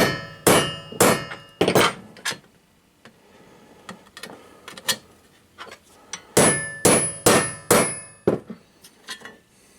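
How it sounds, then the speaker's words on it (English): A hammer strikes sheet metal in sharp, ringing blows, a quick cluster, a few scattered taps, then another rapid burst of strikes close by. "the noise the metal makes or the noise the hammer makes changes"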